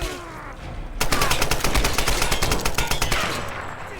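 Rapid gunfire from the video game Tomb Raider bursts in after a quieter second and keeps up a fast, loud, evenly spaced volley for about two seconds before easing off.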